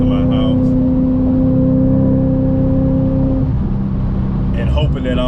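Supercharged Audi B8.5 RS5 with a JHM exhaust downshifting while driving, a loud steady engine note that falls and shifts midway, heard from inside the car.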